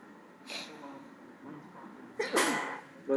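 A close, sharp sneeze bursts out after some quiet breathy noises, followed by a brief snort at the end.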